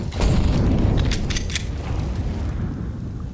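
A grenade blast in Counter-Strike during a professional esports match at a tournament: a deep rumbling boom that swells quickly, then a sustained roar of low noise with faint mechanical clicks above, slowly settling.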